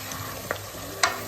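Spoon stirring mutton paya curry in a pot, soft scraping with two brief clinks over a faint steady sizzle.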